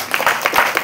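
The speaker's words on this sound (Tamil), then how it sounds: "இதுக்கு நீங்கள் கைத்தட்டணும்." A crowd at a movie audio and trailer launch event claps briefly, a dense burst of hand claps rising and falling over under a second.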